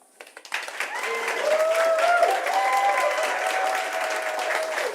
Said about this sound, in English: Big round of applause for Joe